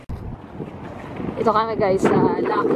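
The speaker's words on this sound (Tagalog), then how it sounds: "Mahangin malamig." Cold wind buffets the microphone outdoors near Lucky Supermarket in Calgary, Canada, a continuous low rumble with gusts, while a person talks over it partway through.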